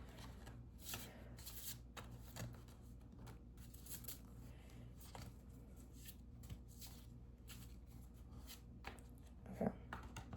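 Tarot cards shuffled over and over in a steady riffling rhythm, close by, with soft taps and rustles and no talking.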